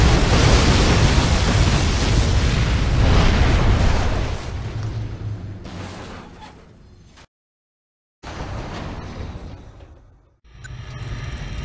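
A particle cannon fires in C&C Generals Zero Hour, a loud, dense roaring blast that holds for several seconds, fades, cuts to silence, then roars back in another swell.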